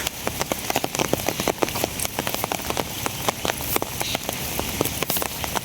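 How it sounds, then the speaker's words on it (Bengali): Heavy rain pours down steadily, a dense continuous hiss with sharp drops spattering close by, no voices. "একবারে যে ধুমছে বৃষ্টি"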